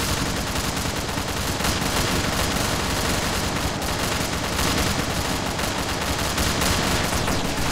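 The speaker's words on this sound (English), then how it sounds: "We're being shot at." Dense, constant gunfire from a game skirmish as a group comes under attack, a loud continuous roar of shots that fills the whole clip with no clear pauses.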